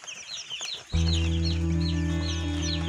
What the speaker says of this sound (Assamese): আমাৰ পোৱালি আহিছে 3000